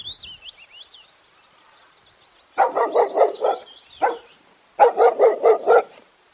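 In a children's alphabet rhyme, a cartoon dog barks in two quick rhythmic volleys of several close, loud woofs, following a wavering whistled tune.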